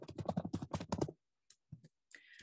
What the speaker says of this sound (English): I'm on my laptop, so I'm just typing like somebody who doesn't know how to type.